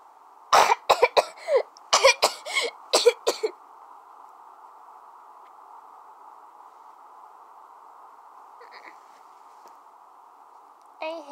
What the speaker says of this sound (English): I hate coughing all the time.